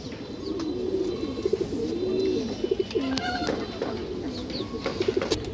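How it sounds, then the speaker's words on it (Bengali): Pigeons coo repeatedly in a low, rolling rhythm at a seller's stall of fancy breeds, including khoira-necked, black-tailed, green and silver birds, with soft overlapping calls and a faint chirp near the end. "খুব সুন্দর কবুতর"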